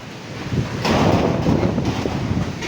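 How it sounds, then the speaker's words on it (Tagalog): Strong wind near a river in Bulacan, Philippines, buffets the microphone with a loud, broadband rushing roar that swells and stays heavy throughout. "Grabe yung lakas ng hangin dito."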